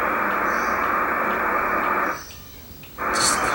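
Loud, steady hiss of CB radio static and interference fills the air, breaks off into near silence, then surges back with a brief higher crackle.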